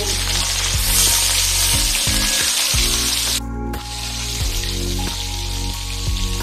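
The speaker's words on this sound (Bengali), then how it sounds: "এখন এই তেলে দিয়ে দেবো মাখিয়ে রাখা শোল মাছটাকে এখন ভেজে নেব" Snakehead fish fries in hot mustard oil in a kadai, a loud continuous sizzle and crackle with spitting pops and occasional clanks of a utensil, up close.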